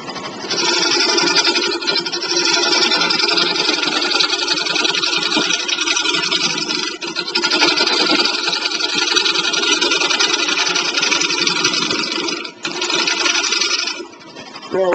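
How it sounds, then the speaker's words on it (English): Wood lathe spinning while a bowl gouge cuts into a turning wooden bowl blank, a loud, continuous rushing scrape with a few short breaks where the tool lifts off. "I'll just run in there with the bowl gouge and get that 10 started"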